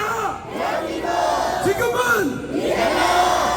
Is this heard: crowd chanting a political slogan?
yes